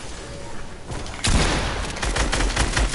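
Rapid bursts of gunfire in Fortnite erupt loudly after a quieter lead-in, sustained dense shooting continuing to the end with faint voices underneath.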